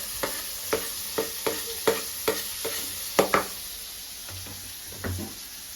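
Onion and tomato are stirred in a pan, producing about a dozen evenly spaced scrapes and taps of a spoon against the metal over a faint sizzle, close and distinct.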